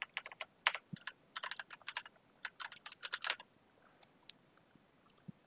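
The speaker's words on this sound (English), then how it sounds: "it's literally just typing in the name" Quick bursts of keystrokes on a computer keyboard, close and crisp, in irregular clusters with brief pauses, quiet room and no talking.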